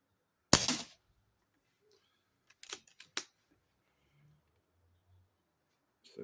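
A Kral Empire XS air rifle fires outdoors at a 50-yard target: a sharp, fairly loud shot near the start, then a cluster of softer mechanical clicks and another crack around three seconds, with quiet between and a faint click at the end.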